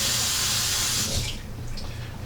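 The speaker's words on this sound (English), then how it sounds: "let me rinse my hand here." Water running from a kitchen tap as a hand is rinsed while cooking Polish mushroom cutlets, a steady close hiss and splash that shifts and softens as the hand moves under the stream.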